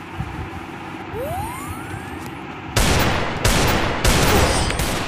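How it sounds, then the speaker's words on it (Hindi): Gunfire from the Free Fire Max battle-royale game: three loud broadband bursts of shots arrive in quick succession in the second half, after a quieter stretch of game ambience with a rising whistle-like tone. "भाई हेडशॉट मार दिया मेरे को, कैसा प्लेयर है यार ये अंस गेमर"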